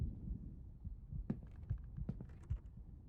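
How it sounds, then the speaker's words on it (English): Heartbeat in a horror video game, a steady run of deep, muffled double thumps pulsing close over a low hum, with faint clicks scattered in the background. "Hear the heartbeat."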